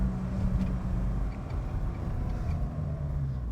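A BMW E28 Hartge H5 SP straight six pulls steadily under load with a continuous, close, low engine drone and no talk over it.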